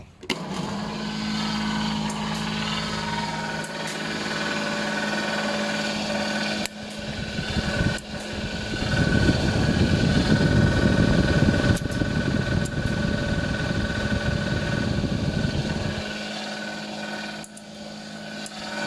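A fish feeder machine with a spinning impeller that flicks out feed runs with a steady motor drone, swelling louder and rougher midway before settling back, close and continuous.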